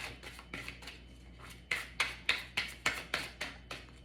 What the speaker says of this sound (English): give me 9 more shuffles.